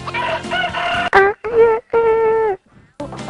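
A person imitates a rooster's crow, with drawn-out, tonal cock-a-doodle-doo calls in short bursts separated by brief pauses.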